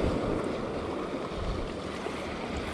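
Broad, steady wash of ocean waves against a rocky Pacific shore, continuous surf with some wind noise, no distinct breaks, heard from atop the rocks.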